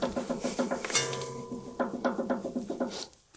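Rapid rattling knocks from worn front sway bar links on a vehicle driven over corrugated road, a fast repetitive clatter with a brief metallic ring in the middle, close and fairly loud.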